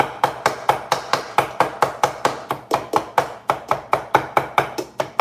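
A knife chops food on a cutting board in a fast, even rhythm of sharp, loud strikes, roughly four per second, close by in a kitchen.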